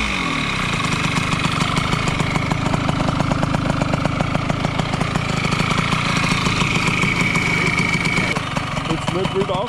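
A Puch Maxi moped with an Italkit 24 kit fires up and settles into a loud, close, steady idle with an even mechanical chatter.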